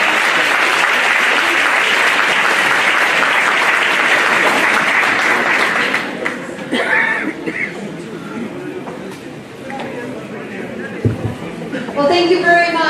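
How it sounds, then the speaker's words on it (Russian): Loud, sustained audience applause greets a doctor invited onto a stage at a seminar, thinning out after about six seconds into scattered claps, murmurs and bits of talk before brief renewed clapping. "ваши аплодисменты."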